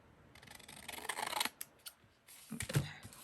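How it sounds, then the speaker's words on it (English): Scissors snipping through fabric for a patchwork pocket, a close, quiet run of crisp cuts and rustles in two bursts separated by short pauses. "I'm going to cut some of this off."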